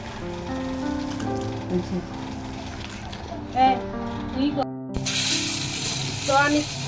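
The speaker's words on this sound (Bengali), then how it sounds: "তো আমি ক্যাপসিকামটা একটু হালকা করে ভেজে নিলাম।" Capsicum lightly frying in a pan while a beef burger is prepared, giving a steady, soft sizzle that runs throughout beneath a continuous tonal musical background.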